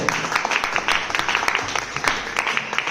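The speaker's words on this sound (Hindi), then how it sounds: "सभी लीडर जोरदार ताली करें" Loud, dense applause from leaders in the audience at a network-marketing business meeting, many hands clapping continuously with a faint crowd murmur beneath.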